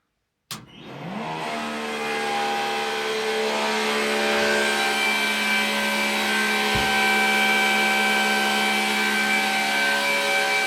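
A car engine cranks and catches abruptly after a fuel system repair, then settles into a loud, steady idle with a harmonic whine that keeps running without a break.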